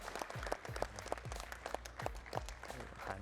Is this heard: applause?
yes